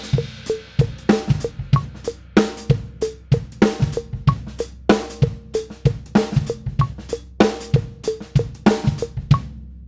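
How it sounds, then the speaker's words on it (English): Drum kit laying down a go-go groove at 95 beats per minute, with hi-hat pattern, kick and snare in a steady syncopated loop, loud and close, no talking. "up to go-go tempo of 95 beats a minute"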